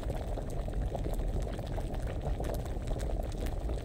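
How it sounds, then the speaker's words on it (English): Liquid boiling in a pot in a survival video game, a steady close bubbling hiss that keeps going evenly with scattered pops and no talk. "Probably assume it's been boiling for 1 turn already."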